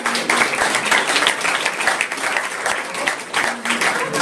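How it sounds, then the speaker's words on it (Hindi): Loud audience applause rings out at a church Christmas drama, a dense, steady wash of many hands clapping that holds for several seconds with brief swells. "एक बार जोरदार ताली बजाएंगे इनके लिए"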